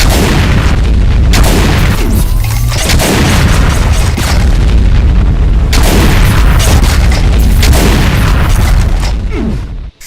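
BFG 10K shots from a Doom mod explode in rapid succession, a loud, relentless barrage of deep booming blasts and rumbling detonations that pounds continuously without a break, with no voices.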